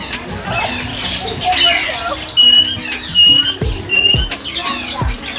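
Parrots at Kankaria zoo in Ahmedabad squawking and chirping in short bursts, fairly near, over a background of visitors' chatter and people talking.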